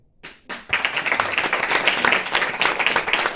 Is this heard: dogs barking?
no